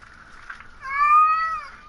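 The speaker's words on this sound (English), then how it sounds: "There goes my cat again." A cat calls out from a window indoors, giving one drawn-out, clear meow of moderate loudness after a quieter, murmuring lead-in.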